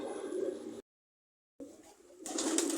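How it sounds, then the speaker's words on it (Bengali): Pigeons on a pigeon farm coo softly, and other birds call faintly. The sound breaks off into a short silence, then returns louder and fuller near the end. "এগুলা ডাকাডাকি করে, ডাক শুনতে কার না ভালো লাগে।"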